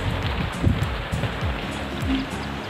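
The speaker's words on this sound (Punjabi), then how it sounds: "ਅੱਜ ਮੀਂਹ ਪੈ ਰਿਹਾ ਪੂਰਾ।" Steady outdoor rainfall with a broad, continuous hiss and a few soft low thumps, fairly close and moderately loud, with no voices.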